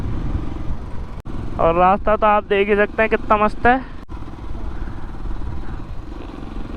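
A motorcycle rides along a mountain road on the way toward Harsil Valley, its engine a steady droning rumble throughout, while someone speaks loudly over it in the middle.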